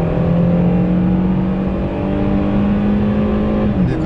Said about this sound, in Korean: 그 스포츠 사운드로 바꾸면 부르릉 하는 소리가 좀 더 들어오는 걸로